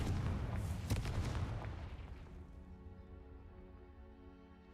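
A Confringo blasting spell bursts in Hogwarts Legacy: a loud, booming explosion with crackling debris that rumbles for about two seconds, then fades into a quiet, tonal ambient background.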